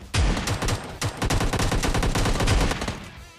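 Rapid gunfire from a battle royale shooter, loud and dense, with a burst of shots, a short break, then another long volley of close, punchy blasts, no talk.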